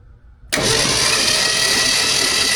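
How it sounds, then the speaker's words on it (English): After a brief quiet moment, the engine of a 1968 Ford F-100 Ranger truck abruptly starts cranking over, a loud, close, steady churning that continues to the end. "There's your crank over."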